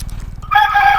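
A rooster crows loudly in the second half of a Call of Duty Warzone match, its drawn-out call rising over a steady low rumble of game ambience.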